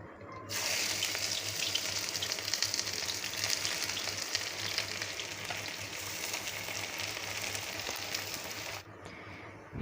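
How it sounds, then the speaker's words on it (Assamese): Onions deep fry in hot oil in a kadai, giving a steady, even hiss that begins abruptly and continues unbroken for about eight seconds before stopping. "এইখিনি পিঁয়াজ মই এতিয়া অকণমান ডিপ ফ্ৰাইকৈ ৰঙচুৱা হোৱাকৈ ভাজি ল'ম।"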